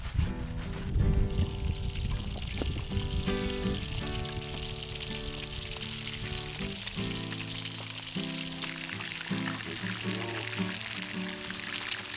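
Beans heat in a pan over a campfire, a steady soft sizzle and bubbling with faint stirring scrapes, continuous and fairly quiet beneath low outdoor ambience.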